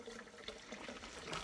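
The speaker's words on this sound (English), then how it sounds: "That water's been running for 45 minutes." Water running steadily into a cattle trough for Holstein steers, a faint continuous splashing trickle with no talk.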